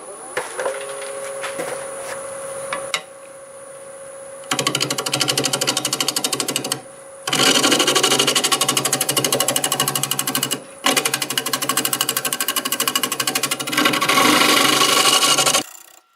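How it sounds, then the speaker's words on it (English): Dry apple wood spins on a wood lathe at about 750 RPM while a half-inch bowl gouge cuts it, producing loud, close, sustained rasping and chattering in long runs broken by short pauses, with the lathe motor humming faintly at the start. "I'll be using a 1/2 inch bowl gouge. We're doing about 750 RPM to start."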